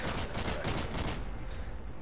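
Rapid chopper gunner fire in Modern Warfare 2 on the Derail map rattles in a dense burst of shots, sustained and fairly faint, fading slightly toward the end.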